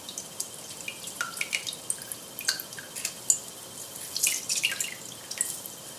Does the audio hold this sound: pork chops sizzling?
no